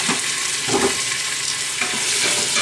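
Tomatoes and scallions cook in a pan with garlic, giving a steady frying sizzle with a few stirring scrapes. No one talks.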